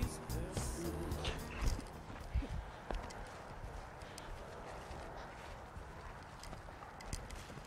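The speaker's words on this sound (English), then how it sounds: "Actually, it's an Arabian, and his name is Wildfire." An Arabian horse's hooves clip-clop outdoors in an irregular, moderately close rhythm over steady background noise, with a few sharper hoof strikes and muffled voice-like sounds near the start.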